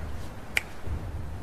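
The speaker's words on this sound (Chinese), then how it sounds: "那你就看我的响指为好" One crisp finger snap rings out in the middle of a quiet pause, sharp and close, with only a low murmur of background noise around it.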